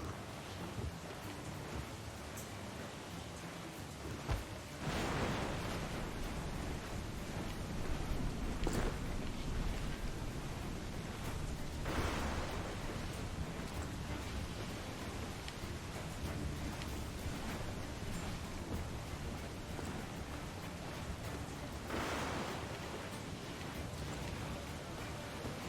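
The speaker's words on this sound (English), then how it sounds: "Storm Captain!" Steady rain and wind from a storm at sea in Assassin's Creed 4 Black Flag, with several rolling thunder cracks rising over the constant downpour, fairly loud throughout.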